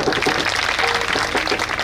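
Applause from the crowd at a kirtan gathering: a thick, continuous patter of many hands clapping at steady loudness, heard alone without speech.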